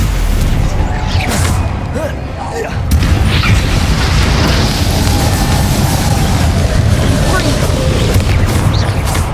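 Spell blasts and explosions from the Hogwarts Legacy video game, a dense continuous barrage of booming bursts and crashes with heavy low rumble throughout, loud and close, briefly easing near the two-second mark before resuming.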